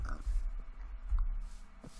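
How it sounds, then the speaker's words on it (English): Pigs in the Minecraft plains biome grunt and oink in a few short, low snorts, fairly close, over a soft ambient game background with no talking. "Next to lots of fat pigs."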